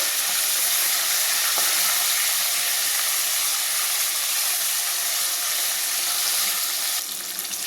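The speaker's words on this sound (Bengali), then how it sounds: "মাছটাকে বেশ কড়া করে ভেজে নেব।" Fish fries crisply in hot oil with a loud, constant close-up sizzle and crackle that eases slightly at the end, with no talking.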